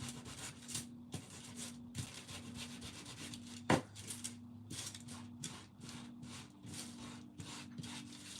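Edges are sanded by hand with a quiet, repeated rubbing, in short scratchy strokes at an irregular rhythm, close and soft with no talking.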